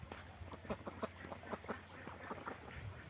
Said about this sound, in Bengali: এদিকে সব হাঁস চলে আসছে